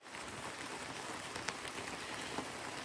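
Steady rain pours down during a storm in Lake County, Michigan, near Luther and Baldwin, a dense continuous hiss with a few sharper drops standing out, no voices.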